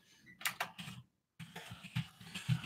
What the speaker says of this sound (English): Let me type that one down.